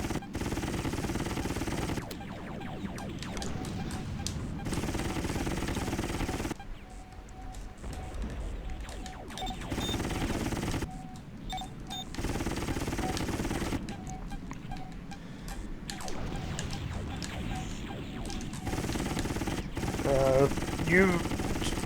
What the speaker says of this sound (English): even though you're getting lasers fired at you